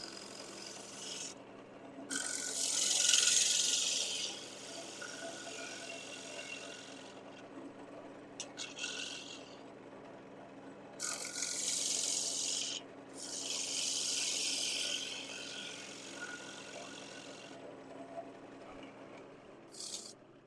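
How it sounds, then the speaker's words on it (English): A skew chisel scrapes across a spinning wooden bowl on a lathe to clean up tool marks, giving repeated loud hissing rasps of a few seconds each, separated by quieter stretches of lathe hum. "Working on cleaning up some tool marks here."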